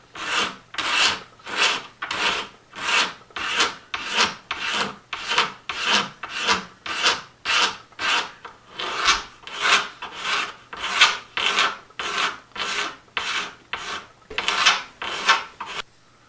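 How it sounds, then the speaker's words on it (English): Rhythmic rasping strokes of sandpaper on a wooden guitar bridge for a Martin D-35, about two per second, close and steady, with no talking. "I'm not done with the sanding yet"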